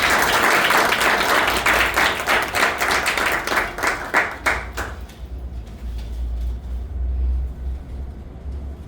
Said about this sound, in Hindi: सदर मोहतरम से जोरदार तालियां हो जाए पहली बार